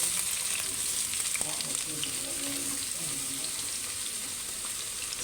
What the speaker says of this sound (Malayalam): വെളിച്ചെണ്ണ ഒഴിച്ച് നന്നായി ചൂടായതിന് ശേഷം നമുക്ക് ചെറിയുള്ളി ഇട്ട് കൊടുക്കാം